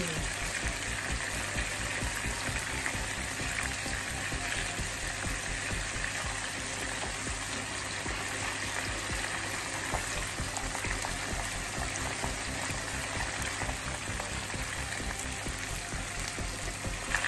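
Chicken karaage fries in hot oil, a dense continuous sizzle and crackle that stays even and close throughout with no talking over it.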